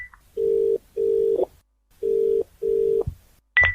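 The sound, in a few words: telephone ringing, call not answered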